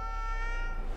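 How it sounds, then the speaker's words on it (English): A CGI cat in the Argylle movie trailer lets out a single short meow, heard alone over a tonal, humming score. "It's a very CGI cat."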